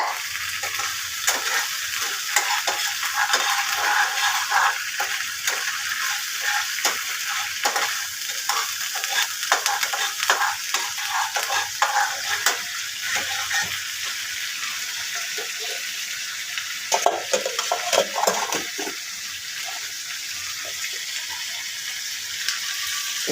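Chili paste cooking in a green fish curry gravy, bubbling with a continuous close sizzle and intermittent scraping stirs of a spoon in the pan, loud and steady with no talking.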